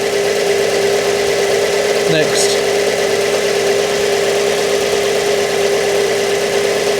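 A car engine idles steadily just after starting for a battery charging test, a constant mid-pitched hum with a faint tonal drone, close by, while someone briefly speaks over it.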